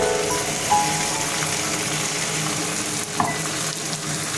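Loud, continuous sizzling of a ground red chilli and tomato paste frying in a hot pan, with a couple of faint scrapes from stirring.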